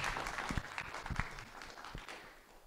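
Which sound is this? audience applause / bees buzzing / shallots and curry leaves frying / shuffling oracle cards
audience applause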